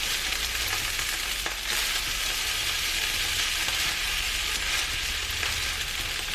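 Leftover rice frying in a hot pan, a constant loud sizzle with faint scraping as it is stirred, steady throughout with no talking.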